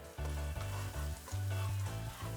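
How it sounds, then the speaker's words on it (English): Minced garlic sizzles in heated peanut oil in a pan, a soft, steady crackling hiss with a low, intermittent hum beneath it. "add some peanut oil, and once it's heated, add in your garlic and let that sizzle."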